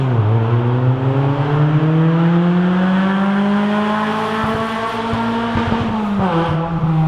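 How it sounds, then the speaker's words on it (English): A neighbour's car revs hard with a rising, sustained engine whine close by, then a sharp tire squeal and a dip in pitch as it lets off near the end. "The lovely high school person that lives behind me in their awesome car"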